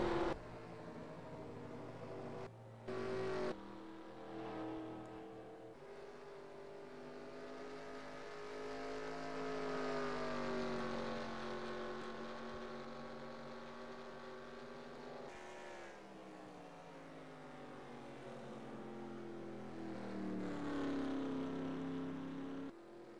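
Race car engines in the NASCAR NR2003 video game at Darlington, a continuous high-pitched engine drone with shifting pitch that swells and fades as cars run laps, loud and steady throughout with no talk.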